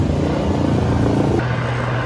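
A rescue helicopter in the mountains of the Portes du Soleil drones loudly and close with a dense rumbling rotor and engine noise. The tone shifts partway through as the machine moves.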